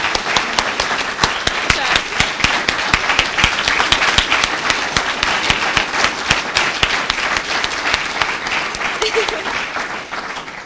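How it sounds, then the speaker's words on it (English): Dense, steady applause from an audience at the closing of the 2011 YELF presentations, many hands clapping close and loud throughout with no voices over it. "So a big, big round of applause for them."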